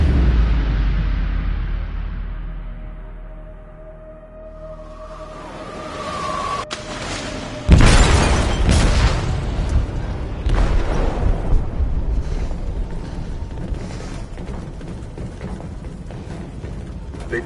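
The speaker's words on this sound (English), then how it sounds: "They detonated an explosive in the hold." A large explosion in a ship's hold in Detroit: Become Human hits with a loud deep boom after a quiet stretch, followed by sustained rumbling, creaking and mechanical debris noise.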